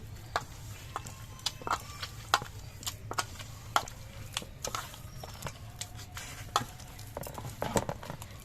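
Rice flour dough being worked by hand with added water for pitha, steady soft squelching and slapping taps repeating in an irregular rhythm, close and fairly quiet over a low background hum.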